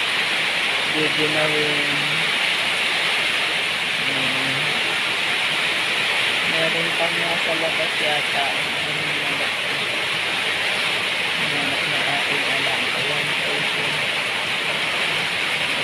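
Steady heavy rain with wind, a dense constant hiss, while people talk intermittently over it.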